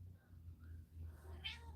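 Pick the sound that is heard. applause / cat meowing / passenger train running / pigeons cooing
cat meowing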